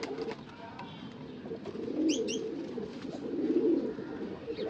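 Pigeons in a loft in Bangalore give soft, low cooing calls in two gentle swelling bursts over steady background noise, with a brief higher chirp from another bird in between.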